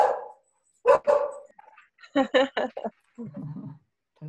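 A dog barks in short bursts, a couple of sharp barks then a quicker run of yips, close and fairly loud with quiet gaps between.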